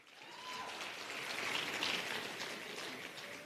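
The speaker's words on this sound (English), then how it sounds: "Another round of applause for Comrade Gaby." Audience applause at an ANC meeting with artists, a steady wash of many distant hands clapping, even and fairly faint for the whole stretch.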